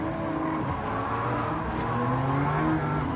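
A race car oversteering and sliding in a racing video game, steady engine drone with rising pitch and a faint tire squeal as the rear steps out, loud and unbroken with no voices.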